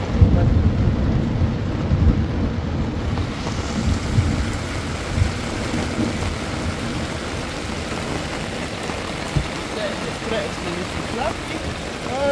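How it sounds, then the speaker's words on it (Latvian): Heavy rain pours down outside a camper, a dense, loud, steady hiss with low rumbles running beneath it, and voices can be heard talking under the downpour. "Ārā lietus gāzes."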